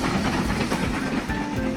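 Perishable freight train of refrigerator cars running on rails, a steady close rumble with clattering wheel noise and faint hissing throughout, no voices.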